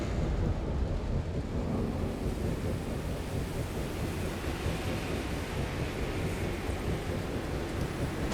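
Heavy, steady video game rain pours down with a deep continuous rumble of thunder underneath, dense and unbroken throughout.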